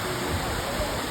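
Tiguis Falls in Lila, Bohol roars with a steady, broadband rush of falling water, loud and close throughout.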